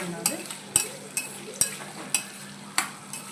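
Potatoes stirred and fried in oil for aloo masala curry, a steady close sizzle broken by about seven sharp scraping strokes of a spatula against the pan at a regular rhythm, with no talking.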